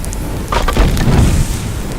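Imitation of a bonfire made with everyday objects: a dense rumbling roar swells in the middle with a few crackles and pops, close and loud, without any voices.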